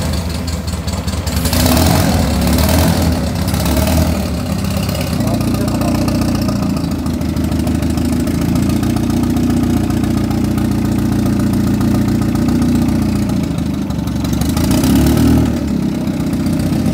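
A car engine runs continuously nearby, idling with a low rumble and occasional rises as it's revved.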